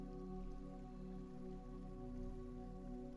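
Steady, even rain patters continuously at a moderate level throughout, a dense wash of drops on a surface with no voices.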